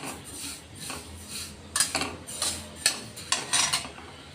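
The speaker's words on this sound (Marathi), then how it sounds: "तीळ आपण आता भाजून घेऊ चांगले" Sesame seeds dry-roasting in a pan with a metal spoon scraping and tapping, giving intermittent sharp clinks and rattles against a soft background.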